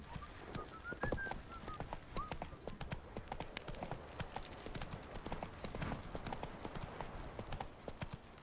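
Hooves of Roach, Geralt's horse in The Witcher, clip-clopping in a steady walking rhythm close by, with faint bird whistles and a brief snort or whinny over ambient game sound.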